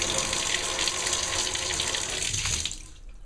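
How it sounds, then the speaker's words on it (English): Water runs steadily from a newly installed, pressure-tested bathtub valve during an investment property renovation, a continuous close hiss and splash that thins out near the end. "Water's on, it's been pressure tested."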